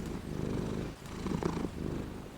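A cat purrs steadily and close, with low rhythmic pulses that pause briefly partway through and then resume; no one speaks.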